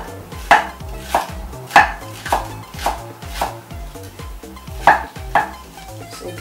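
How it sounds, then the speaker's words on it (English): Green onions are chopped on a cutting board with a knife, about a dozen sharp, evenly spaced knocks close by, each with a bright crack, and no speech. "Cut the green onions."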